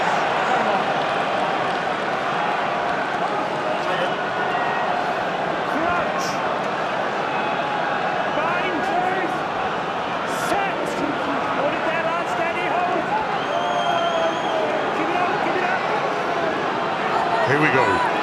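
Rugby stadium crowd at the 2019 Guinness PRO14 final between Glasgow Warriors and Leinster: a steady, dense roar that holds throughout, with a commentator talking over it.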